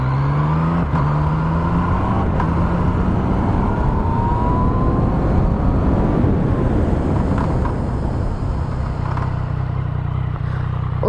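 A 2017–18 Yamaha MT-09 motorcycle on a braking test ride, its engine droning steadily, the pitch falling away as it slows, with constant road and wind noise throughout.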